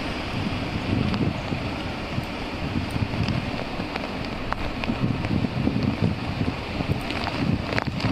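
Steady, blustery wind from Cyclone Tauktae in Mumbai roars continuously amid heavy rain conditions, with low rumbling gusts and occasional sharp gusty hisses, no voices present.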